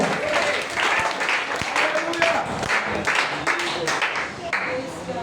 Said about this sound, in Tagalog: Kung alam natin ang presensya, palakpak tayo.